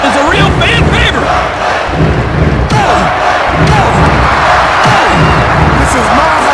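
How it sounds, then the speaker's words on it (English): A roaring arena crowd cheers and shouts in the WWF Attitude wrestling video game on Dreamcast, a loud continuous wash of voices with thuds and slams from the ring underneath. "Check out this crowd! They're on their feet!"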